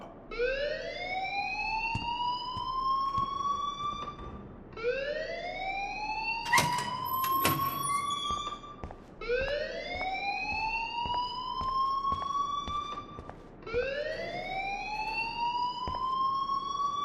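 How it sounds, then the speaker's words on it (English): A school fire alarm in the video game Life is Strange wails in repeated rising sweeps, each lasting about four seconds, loud and steady throughout. A sharp clatter interrupts it briefly midway, and no one speaks. "please turn off that alarm since that's your job"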